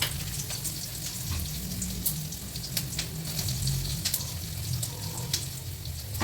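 Roti cooks on a hot griddle as water is added, giving a loud, steady sizzle and crackle with faint splashy pops throughout and no talking.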